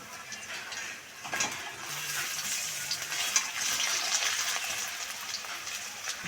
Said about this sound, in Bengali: পরিমাণ মতো তেল গরম করে একে একে কুমড়ো মাখাটা চপের আকারে দিয়ে দেব।